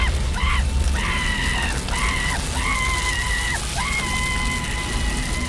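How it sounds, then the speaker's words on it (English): A drawn-out transformation scream from the Armored Titan in the live-action Attack on Titan movie, coming in several long wavering wails with brief breaks, loud and up front over a rumbling, noisy background. "why is he screaming like this?"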